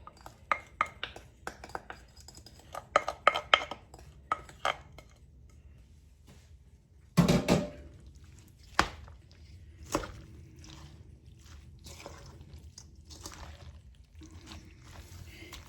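Creamy dressing is stirred into a bowl of pasta salad with rotisserie chicken, broccoli and bacon, giving soft wet squishing and scattered utensil clinks against the bowl, some sharper knocks, with brief talk.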